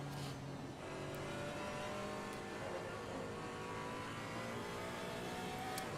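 Race cars in Assetto Corsa Competizione, including a Porsche and a BMW, on an endurance race circuit. Engines rev and climb through the gears in a continuous, layered whine, steady and fairly close, without any talking.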